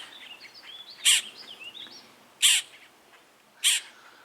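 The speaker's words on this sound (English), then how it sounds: "We got some blackbirds up on the summer house." Blackbirds perched on a summer house in Upstate New York, with nearly fledged young nearby, give three loud, harsh calls about a second apart, with faint chirping in between.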